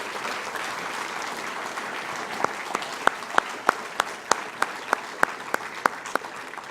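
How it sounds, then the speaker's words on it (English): An audience at Shawnee High School's 2018 athletic Hall of Fame induction ceremony applauds the inductees, steady crowd clapping that settles into loud, evenly spaced rhythmic claps. "one more round of applause for our 2018 Hall of Fame inductees"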